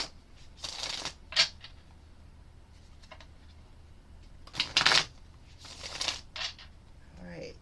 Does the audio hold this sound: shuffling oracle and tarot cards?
yes